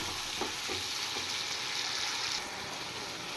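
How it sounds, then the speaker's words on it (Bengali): Chopped tomatoes and vegetables sautéing in a pan for a fish curry with drumsticks, giving a steady close sizzle and hiss with a few soft stirring knocks. "এবার আরেকটু ছাতলে নেব"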